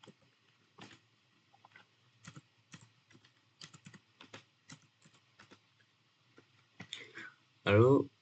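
Student data is typed on a computer keyboard as a run of irregular close key clicks, with a burst of speech at the end.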